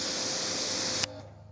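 Active 2.3 electric pressure washer sprays in a steady, loud broadband hiss for about a second, then cuts off abruptly, leaving a faint fading tail.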